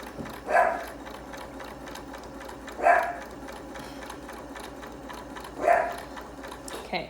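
A sewing machine stitches a face mask made with ribbon ties at a 5/8 seam allowance, running in three short bursts at an even spacing, each stitching run close and clear against quiet room tone.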